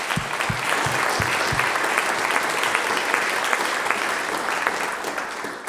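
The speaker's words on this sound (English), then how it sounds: "Let's give them a round of applause" A conference audience at an RNA science meeting breaks into sustained applause, a loud, dense crowd clapping that holds steady throughout, with a few sharp individual claps near the start.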